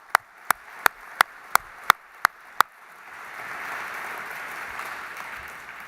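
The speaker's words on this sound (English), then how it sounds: "Let's give the ambassador another big round of applause" A few sharp, evenly spaced claps lead into broad audience applause for an ambassador at an exhibition opening evening on Auschwitz, the crowd's clapping swelling into a steady wash.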